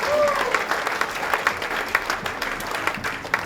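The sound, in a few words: congregation clapping for the brother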